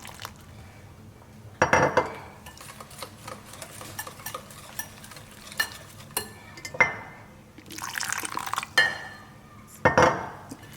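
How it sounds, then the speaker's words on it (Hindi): Water is stirred into sweet chutney in a metal bowl, with scattered clinks and scraping of a spoon against the vessel and a few louder knocks, close and intermittent without speech. "थोड़ा सा पानी डालकर।"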